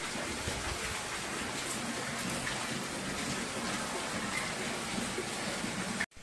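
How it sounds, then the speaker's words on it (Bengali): Heavy rain pours outside a home as a steady, even wash of hiss that carries on without a break until it cuts off abruptly at the end. No one speaks. "কি বৃষ্টির আওয়াজ।"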